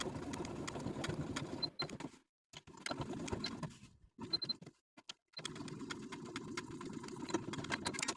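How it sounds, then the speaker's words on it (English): A sewing machine topstitches the side and top edges of a sleeve placket at a 1/8 inch allowance, running in steady bursts of several seconds separated by brief pauses. "we're going to top stitch the side and top edges of the sleeve house with a 1/8 inch seam allowance"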